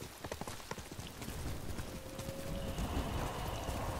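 Horse hooves clip-clop in quick rhythm as a horse gallops in Ghost of Tsushima, close and clear at first, then blending into a rougher rushing wash with a faint whinny-like tone.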